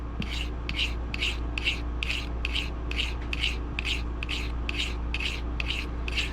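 A traditional broadhead drawn across the 600 grit side of a sharpening stone in about fourteen even, rhythmic rasping strokes, each a short scrape repeated at a steady pace close by, with no voices.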